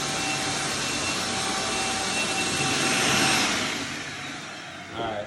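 A shop vacuum roars loudly and steadily while sucking up grains and pebbles from a mud shower floor, its whine swelling midway then easing off, with a brief rattle near the end.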